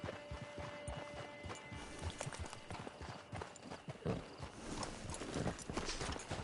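Horse hooves clip-clop in a steady walking rhythm in the video game Red Dead Redemption II, close by, over a low ambient background.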